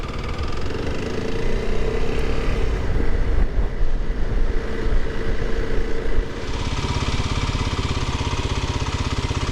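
A motorcycle engine runs steadily while the clutch is gently worked, a loud continuous throbbing rumble with slight shifts in pitch and texture partway through, and no talking.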